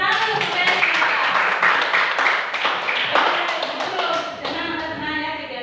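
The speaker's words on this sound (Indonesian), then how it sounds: "Tepuk tangan untuk Feni." A classroom of pupils claps for a classmate named Feni, a dense run of overlapping hand claps lasting several seconds, fairly loud and close, with some voices mixed in.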